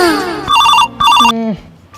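A telephone ringtone chimes in two loud electronic bursts during a comic household scene, with a voice and musical tones around it before the ringing fades.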